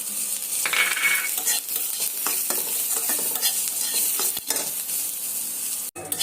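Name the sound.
greens frying and being stirred in a pan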